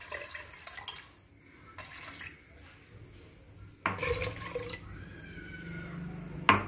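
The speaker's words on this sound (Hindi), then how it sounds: "अब इसके अंदर मैं इससे 5 कटोरी पानी डाल दूँगी।" Water is poured from a bowl into washed lentils for dal in a home kitchen. Soft splashing and trickling come in a few close bursts, with a louder pour near the end and quiet gaps between.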